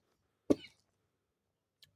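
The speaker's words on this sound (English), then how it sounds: "don't mind my coughing" A single short cough close by in an otherwise quiet room, followed later by a faint tiny noise.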